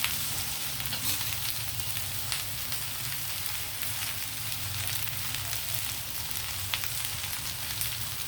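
Sliced okra (bhindi) frying in a little oil in a pan, making a continuous close, even sizzle with faint crackles and occasional light ticks, steady and unbroken, with no voices.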